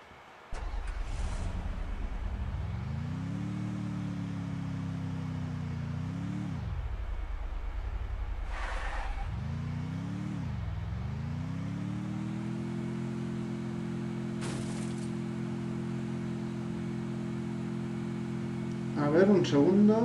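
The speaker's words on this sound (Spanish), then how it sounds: "Voy a coger este coche." Car in the battle-royale game Free Fire drives off with a steady synthetic engine drone that climbs and dips as it speeds up and slows, then holds a constant pitch while cruising.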